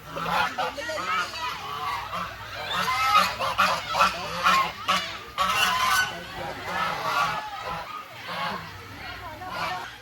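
A flock of ducks honks and calls continuously, loud and close, with overlapping cries and faint human voices in the background.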